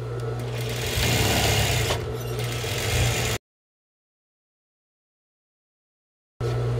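A sewing machine stitches the outer semicircle of a small rag doll's hat in a loud, continuous whir for about three seconds, falls silent, then briefly starts up again.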